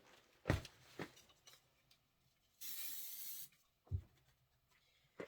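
A short hiss from a spray can, under a second long, between a few soft knocks and handling sounds in a quiet room.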